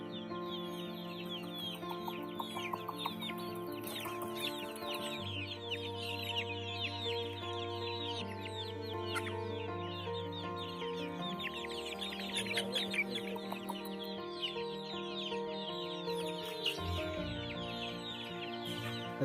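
Desi chickens cluck steadily in a poultry farm shed, with overlapping hen calls and bird chatter layered over a constant low hum, no talk.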